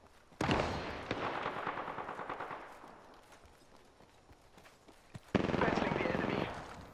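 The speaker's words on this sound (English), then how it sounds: "Shots fired at me." Gunfire in the video game Apex Legends: a long rattling automatic burst fades out, followed by a quieter pause with scattered shots and then a second sharp, loud burst near the end.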